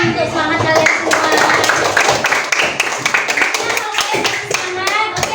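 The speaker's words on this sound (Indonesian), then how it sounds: "tepuk tangan untuk semangat kalian semua" Schoolchildren clap their hands together in a classroom, a lively scattered round of claps, loud and near, with children's voices mixed in.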